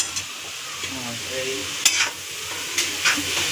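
Grated carrots roasting in ghee in a pan for carrot halwa give a steady close sizzle, with a spoon stirring and scraping against the pan in a few louder strokes.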